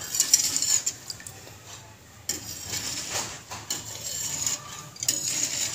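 A spoon stirs pudding mixture in a pot, scraping and clinking against the metal in uneven strokes with short pauses, close and fairly clear.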